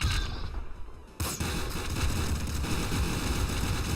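A shotgun blasts in the video game Nuclear Throne, followed by dense overlapping gunfire and explosions filling the rest of the short stretch.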